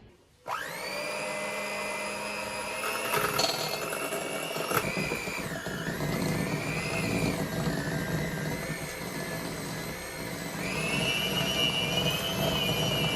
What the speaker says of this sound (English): Now, before I put the sugar in there, I just want to blend this butter just a little bit.